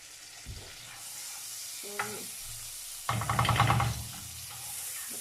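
Butter sizzles in a frying pan with a soft, continuous hiss, while a utensil clinks and scrapes against the pan in short bursts nearby; a voice says one brief word.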